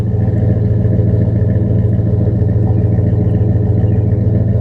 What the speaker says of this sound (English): See if you can hear the exhaust